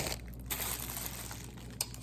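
Soft crinkling and rustling of bubble wrap being pulled off the front of a Canon 70-200 IS USM II lens, a steady quiet crackle with a couple of sharper crackles, no talking.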